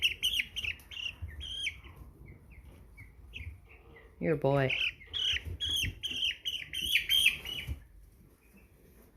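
American Bresse chicks peep and chirp in a steady high, busy stream at close range, with one louder burst of calls midway, while a person talks over them during chick sorting.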